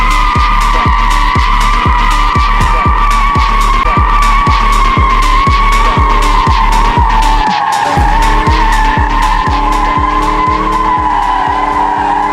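Fox body Ford Mustang GT V8 driving on the road, a loud continuous engine drone with a strong steady rhythmic pulse throughout, gear changes heard as the pitch drops and climbs again.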